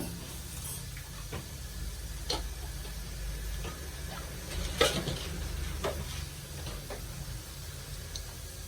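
Cardamom, cloves and cinnamon sizzling in a pan for rajma curry, a steady hiss of frying with scattered ticks and occasional sharper crackles from the whole spices.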